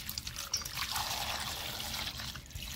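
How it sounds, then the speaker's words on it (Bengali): Tomatoes being rinsed under water, a steady close trickle and splash of running water pouring over them for the whole stretch, with no voices. "টমেটোটা জল দিয়ে প্রথমে আমি ভালো করে ধুয়ে নিব"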